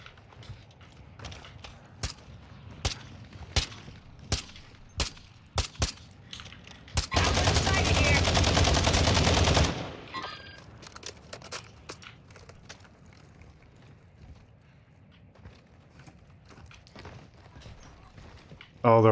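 Gunfire in the Call of Duty DMZ video game: a string of sharp single shots, then a sustained burst of automatic fire for a few seconds, followed by scattered quieter shots and footsteps, with occasional talk over it.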